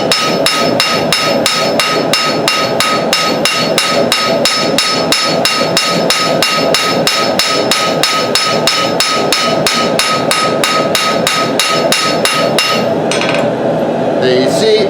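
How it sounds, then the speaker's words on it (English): Steady, rapid hammer blows ring out on hot steel while a knife blade is forged and tapered at the anvil, dozens of sharp metallic strikes in an even rhythm, loud and close, without talk. "I'm hitting a little harder because I can do this in a shorter time"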